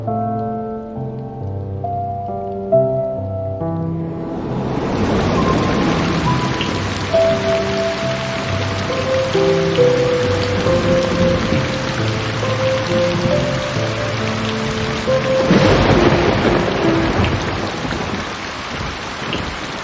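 After a brief musical opening, heavy rain starts pouring in a steady, loud hiss, with a deep rumble of thunder rolling in later while the downpour continues.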